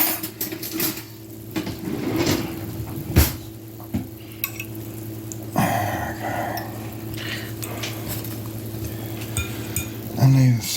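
Bacon-wrapped water chestnuts set onto a toaster oven tray, with clinks of metal and pan handling, a sharp knock partway through, and people talking over the clatter.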